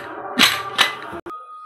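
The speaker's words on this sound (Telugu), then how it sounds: "ఇప్పుడు మనం కుక్కర్ మూత పెట్టేసుకొని" A pressure cooker lid is set onto the pot: two sharp metallic clacks close by, then a short knock and a brief ringing tone, with a voice faintly beneath.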